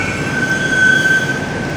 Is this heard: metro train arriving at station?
yes